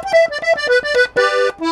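Accordion playing the intro of a song on a Panther instrument in G, a short slow run of clear reedy notes with brief gaps between them and a longer held chord near the end.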